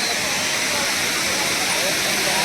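Tirathgarh waterfall in Bastar, India, a loud, dense, unbroken roar of falling water with broad hiss, steady and close, with a voice talking over it.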